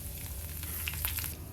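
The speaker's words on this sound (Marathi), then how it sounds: "पत्ता घालू फोडणीला," Curry leaves crackle and sizzle in hot tempering oil with cumin for pithale, a short, bright spattering burst with a few sharp pops, close and alone.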